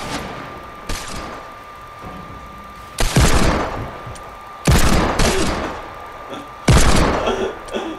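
Video game gunfire erupts in several loud bursts of rapid shots and booms, each dying away before the next, over a thin steady background tone.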